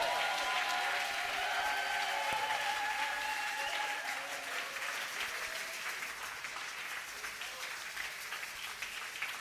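A church congregation applauds in praise of the Lord, loud, continuous clapping from many hands, with faint voices and a sustained tone early on, slowly easing off.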